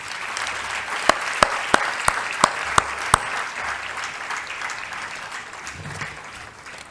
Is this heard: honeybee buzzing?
no